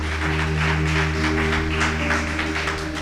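A church congregation claps hands in praise, a quick rhythmic patter of claps riding over steady sustained musical tones at a fairly loud level.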